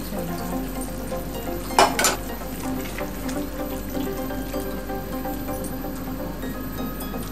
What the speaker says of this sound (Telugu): ఇప్పుడు 1 కప్పు మీగడతో ఉన్న పాలు పోసుకోవాలండి. అంతా చక్కగా మిక్స్ చేసుకోవాలి.